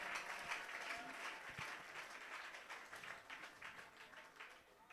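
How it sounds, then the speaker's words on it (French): A church congregation at a convention claps and applauds, a broad, lively patter of many hands that stays steady and gradually eases slightly, with no voices on top. "Continuez à frapper main pour nous applaudir le roi de gloire."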